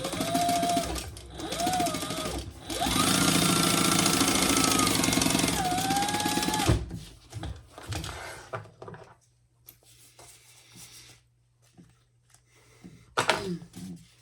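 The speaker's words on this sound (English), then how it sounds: "we're going to top stitch on the side panels, and then we'll repeat that on the other side" A sewing machine runs in long steady bursts, top stitching the side panels of a convertible phone pouch crossbody belt bag, loud and close, then stops, leaving quieter handling noises and a low hum.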